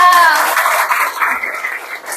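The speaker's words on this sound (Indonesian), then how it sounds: "Kasih tepuk tangan dong untuk kita." Audience applause at an Indonesian company monthly alignment meeting, a steady wash of many hands clapping together at close range, loud and dense throughout before tapering slightly.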